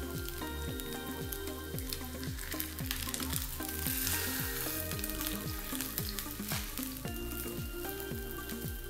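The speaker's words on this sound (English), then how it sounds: "Now we want to fry the second side undisturbed until it's cooked about 1/3 of the way up as well" A salmon fillet fries undisturbed in oil in a pan for teriyaki, giving a continuous close sizzle with dense crackling and spitting. Soft background music plays underneath.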